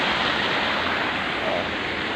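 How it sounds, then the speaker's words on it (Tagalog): Steady broadband roar of waterfalls and rushing currents at a dam, loud and continuous with no breaks, close by and unaccompanied. "Mga talon. Mga agos."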